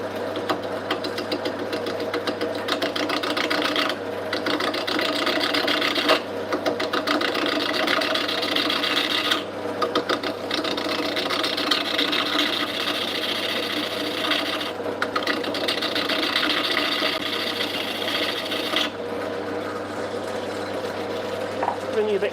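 Wood being turned on a lathe with a chisel in a workshop: a steady, fairly loud scraping and rasping hum that runs throughout, with brief dips where the tool lifts off the spinning wood, and no talk over it.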